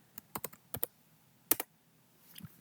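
A computer keyboard is typed on in short bursts during Python beginner coding, giving a handful of close, crisp key clicks in a small cluster, a brief pause, then a couple more taps over faint background hiss.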